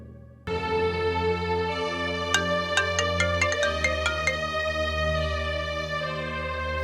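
A phone ringtone plays a bright electronic melody with sustained tones and a quick rhythmic run of notes in the middle, fairly loud and alone.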